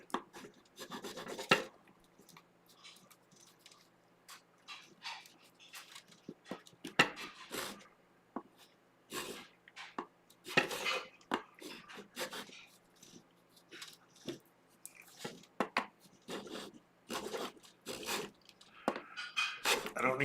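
Stripped Floyd Rose guitar saddles are rubbed down by hand on abrasive in irregular bursts of scratchy sanding strokes, some quick and clustered, others spaced by short pauses, fairly close and moderately quiet.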